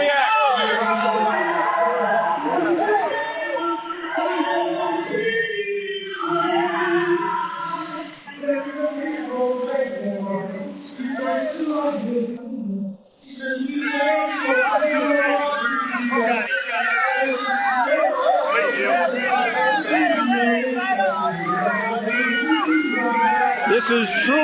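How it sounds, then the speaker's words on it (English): Boxing crowd at a Holyfield–Moorer heavyweight fight, a loud continuous roar of shouting and yelling voices that dips briefly and swells again. "And the crowd reacts."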